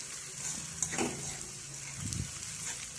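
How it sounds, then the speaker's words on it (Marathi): Fresh green peas sauté in hot oil in a pan, giving a soft, steady sizzle with a couple of brief stirring scrapes, fairly quiet and close. "हिरवे ताजे मटर तेलात परतून घेतल्यानंतर"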